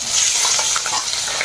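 Fish frying in a wok gives a soft, steady hiss of hot oil with faint stirring, brief and without speech.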